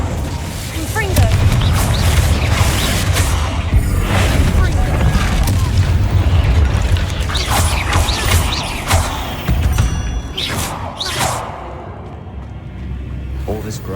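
A Confringo blasting spell goes off in a Harry Potter video game, a loud, dense booming rumble with sharp cracking bursts that fill most of the clip and then ease toward the end.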